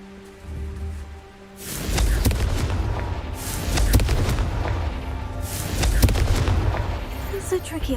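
A Confringo fire spell blasts off in Hogwarts Legacy with two loud, rumbling explosions, each a booming burst that trails off into crackling debris over several seconds.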